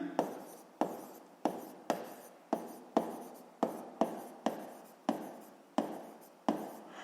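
Chalk or marker tapping and scraping on a board during a physics lesson, about a dozen distinct, evenly paced strokes, each with a sharp attack and quick fade, heard close and alone.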